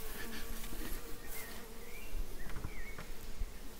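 Carniolan honeybees hum in a dense, steady buzz from an open hive close by, with individual bees droning past, faint but continuous and without talk.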